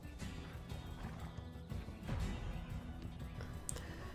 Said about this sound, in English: There's a beautiful little horse just waiting to be captured.